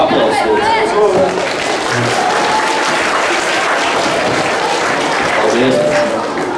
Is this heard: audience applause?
yes